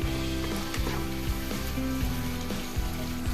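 Whole mint and coriander leaves sizzle steadily in hot oil in a pan for chicken biryani, with a constant close frying hiss, low hum underneath, and occasional stirring scrapes.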